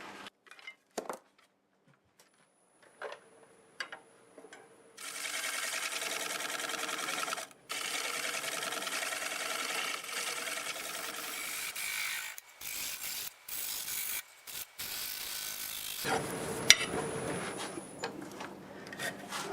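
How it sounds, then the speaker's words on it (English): Negative rake scraper cutting wood on a lathe, sparse taps and scrapes giving way to a sustained raspy cutting hiss, broken by brief pauses and a short spell of renewed scraping near the end. "I'm going to try the negative rake scraper here."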